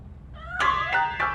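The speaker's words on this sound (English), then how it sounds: "That cat must be hiding inside." A cat hidden inside a piano in the RoboCop Rogue City video game gives three short, clear meows in quick succession, fairly close and alone with no talk.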